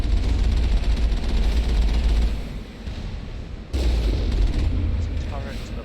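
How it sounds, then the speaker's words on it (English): Sustained gunfire from mercenaries and turrets in the Mass Effect video game, a loud, continuous rumble of shots and booms. The barrage dips briefly, then surges back just as dense, with a voice talking over it. "they've been shooting at me"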